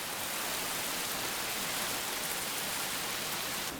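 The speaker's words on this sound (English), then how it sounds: "Just rain. Heavy, frequent." Heavy monsoon rain falls steadily in Borneo, a dense, even hiss of countless drops that stays loud and unbroken throughout with no other sounds.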